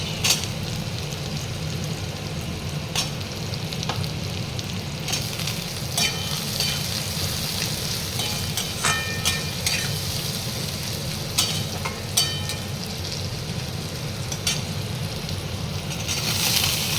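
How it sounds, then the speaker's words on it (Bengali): Onion, capsicum and tomato sauté in a hot pan for restaurant-style chilli chicken, giving a dense continuous sizzle broken by repeated scraping and stirring clicks of a spatula throughout. "প্রত্যেক কোনো সবজিকে আমি গুঁড়ো গুঁড়ো ভাজবো না, হালকা সতে করবো।"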